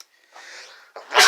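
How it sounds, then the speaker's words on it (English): A single human sneeze, a short indrawn build-up followed by a sharp, loud burst at the end, close and alone in a quiet room. "I had to sneeze"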